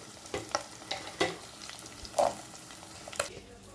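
Onion and garlic fry in a pan with a faint, soft sizzle, broken by a few light clicks of a spoon stirring, with no voices.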